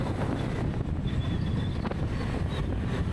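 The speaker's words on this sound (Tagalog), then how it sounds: "Napakalakas ng hangin ngayon dito." Strong wind buffets the microphone in a constant loud rush, with a faint engine hum underneath and no voices.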